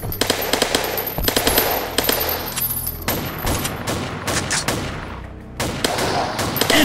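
Rapid automatic gunfire from the mobile shooter game Hollow Point: Battle for Freedom, loud sustained bursts with sharp individual shots and brief pauses between volleys, no speech.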